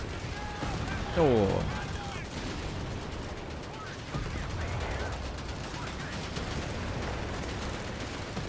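Dense gunfire and battle noise from a commando squad fighting German Panzer tanks in a video game, rumbling throughout, with a brief voice exclamation and a swooping effect early on.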